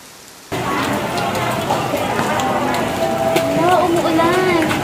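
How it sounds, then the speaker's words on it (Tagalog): Rain pours in a steady broadband hiss that starts abruptly and holds close and loud to the end, with a faint voice briefly surfacing near the close. "Umuulan."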